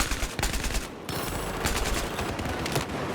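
Battlefield 4 gameplay full of dense gunfire, with rapid automatic bursts and overlapping shots filling the whole stretch loudly and continuously.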